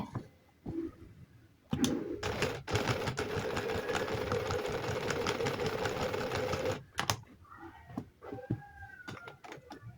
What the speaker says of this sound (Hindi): बिल्कुल इसकी जड़ में सिलाई लगाते जाएंगे।